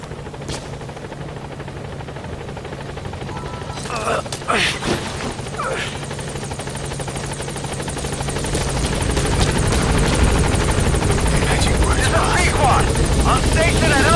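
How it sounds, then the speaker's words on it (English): A support helicopter arrives in the Metal Gear Solid V video game, its rotor roar steady and swelling louder, with a few heavy thuds early on and radio voices over it. "Support helicopter has arrived."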